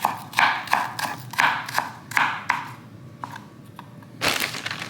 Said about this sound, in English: I'm trying to chop up the garlic and chop up the onion